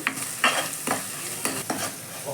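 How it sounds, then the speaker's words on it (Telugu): Ginger garlic paste frying for chicken curry, several distinct scraping stirs of a spatula at irregular intervals over a soft, steady sizzle, close and fairly quiet, with no voices. "సో మళ్ళీ దాన్ని బాగా వేపుకొని అది పచ్చివాసన పోయేంత వరకు వేపుకోవాలి"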